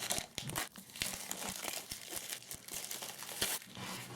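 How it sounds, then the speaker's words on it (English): Plastic wrap is peeled and crinkled off a hardcover Bible, close-up crackling and crumpling in quick irregular bursts with occasional tearing sounds. "So I'm going to go ahead and take the plastic wrap off."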